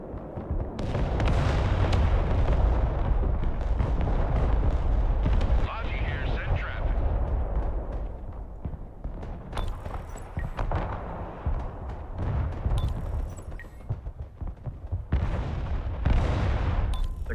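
Artillery fire in the Broken Arrow war game thunders in heavy, rumbling booms, dense at first and then in scattered blasts, under intermittent talk.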